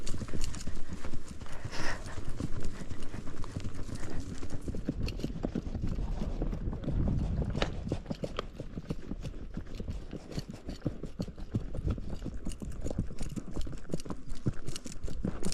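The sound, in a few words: horses walking, hooves clip-clopping, Clydesdales nearby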